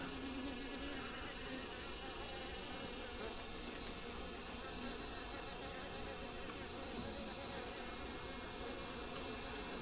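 A dense, steady buzzing of many honey bees in a weak hive fills the air continuously, a soft droning hum with no pauses.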